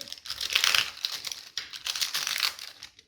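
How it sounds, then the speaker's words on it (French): Paper being torn away from the stitching on a faux-leather wallet during sewing, a close, crinkly ripping in two bursts with a short pause between them. "on déchire tout simplement le papier"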